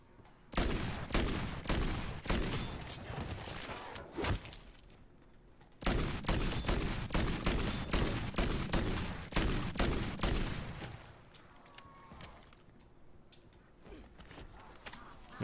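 Dual JAK Warden weapons fire in MW3 Zombies in long, rapid, loud automatic bursts, broken by a short pause and then trailing into scattered quieter shots.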